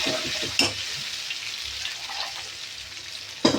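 A pan of black-eyed pea and bottle gourd curry bubbles and sizzles steadily on the stove, with a few sharp clinks of a utensil against the pan.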